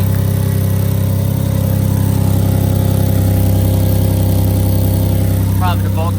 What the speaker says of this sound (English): I guess we got a mean-ass exhaust leak.